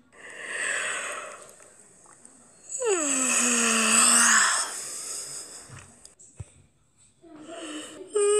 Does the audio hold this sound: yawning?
yes